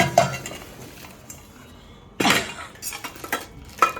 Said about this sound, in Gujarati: આ બા કુકર કાઢે છે.